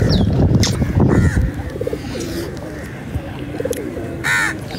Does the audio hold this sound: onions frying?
no